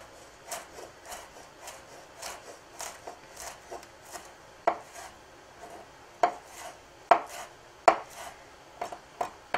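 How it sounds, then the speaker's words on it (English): Fresh sage chopped with a knife on a board for Slovenian potatoes with cottage cheese, giving a steady run of light, close chopping taps that grow sharper and louder toward the end, with no talking. "I'm also going to chop a little bit of sage to put on at the very end."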